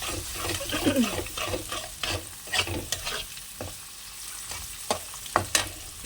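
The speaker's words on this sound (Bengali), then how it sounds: "গাজর বিনস ক্যাপসিকাম ভেজে ডিম দিয়ে দিলাম" Carrots, beans, capsicum and egg frying in a pan, with repeated spatula scrapes and clatters over a softer sizzle, moderately close, no voices.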